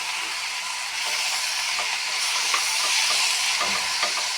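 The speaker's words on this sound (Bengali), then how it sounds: "এখন ভালোভাবে মিশিয়ে নিচ্ছি সবগুলোকে।" Ground drumstick pulp for a prawn curry is stirred in a hot pan, producing a continuous hiss and sizzle with soft scraping strokes.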